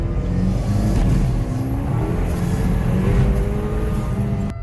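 Remapped car accelerating hard in second gear on a wet road, a loud sustained engine roar rising over several seconds with tyre and road noise, no voices.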